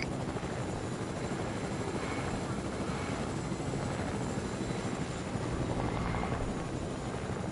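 Helicopter in a roleplay driving video game, a dense continuous rotor and engine roar that stays loud and steady throughout with no break.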